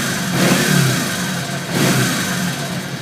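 A 1983 Yamaha Virago XV500 motorcycle engine, up close, revs twice in quick blips above a steady rumbling idle, with no talking.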